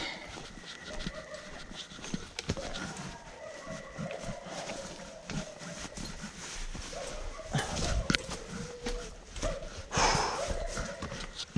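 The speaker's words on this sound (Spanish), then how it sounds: "Se alteraron los perros." Agitated dogs bark and whimper at night around a reputedly haunted hotel in Mexico, scattered barks rising and falling at middle distance amid shuffling, bumps and rustle, with no clear talk.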